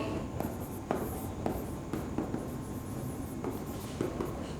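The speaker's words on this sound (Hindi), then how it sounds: "तीनों पार्टनर्स का नाम लिख लेती हूं" A pen writing on paper during a class 12 accountancy lesson, close scratching strokes with rhythmic taps as letters are formed, steady and alone against a faint background hiss.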